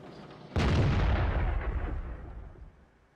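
Artillery shell firing in the World of Tanks game: one sharp, loud boom lands after a brief lull and its roar fades slowly over the next two seconds.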